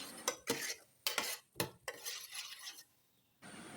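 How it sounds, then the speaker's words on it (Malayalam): Chopped onion and green chili with salt get mixed by hand or spoon in a bowl, producing a few close, uneven bursts of wet squelching and scraping with short pauses between strokes. "ഉള്ളിയും പച്ചമുളകൊക്കെ മുറിച്ചിട്ട് കുറച്ച് ഉപ്പും കൂടെ ഇട്ട് ഒന്ന് സെറ്റാക്കി വെക്കട്ടെ"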